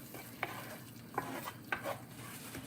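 Amok herb paste sautés in coconut oil, a low simmering sizzle broken by several sharp stirring scrapes and clinks of a utensil against the pan, close and fairly quiet.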